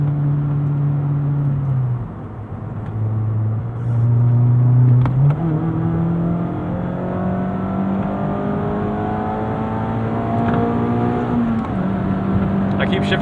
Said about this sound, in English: Nice double clutch there, natural throttle response even with the tune.